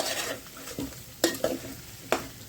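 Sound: bitter gourd (karela) sautéing in oil

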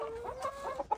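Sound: chickens and roosters clucking in a village

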